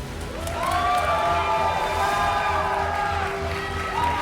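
A crowd cheers and whoops at a televised dance competition, steady and fairly loud throughout, with shouts and rising voices over a dense roar and a low rhythmic thump of music beneath.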